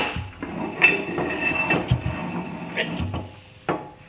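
Metal scraping and clinking as a GM 10 bolt rear axle shaft slides out of its housing during a rebuild in a shop. Irregular knocks and light metallic taps come at moderate loudness, with no talking.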